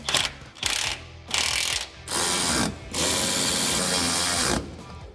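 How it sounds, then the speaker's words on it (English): Ratcheting pawl clicks in bursts as a wrench tightens lift kit bolts on a 2021-2022 Ford Bronco, loud and close, with several short cranking runs followed by longer sustained ratcheting. "Now we can tighten everything down."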